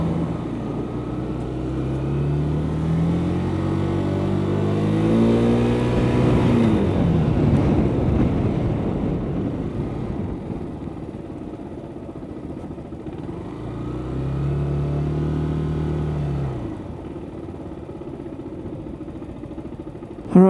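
A motorcycle engine runs low and steady during slow-speed friction-zone maneuvers, its rumble rising and falling twice as the throttle is eased, close and continuous with no talk.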